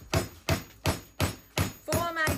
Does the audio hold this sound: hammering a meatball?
yes